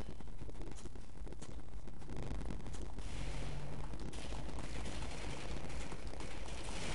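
Gunfire and explosions rumble through the video game Army Men 3D, a continuous loud battle din of shots and booming blasts with heavy low-end noise.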